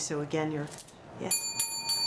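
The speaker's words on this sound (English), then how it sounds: "Margaret says to ring the bell for you." A bicycle-style bell rings a few bright metallic dings, starting after a woman's speech and then repeating in short bursts near the microphone.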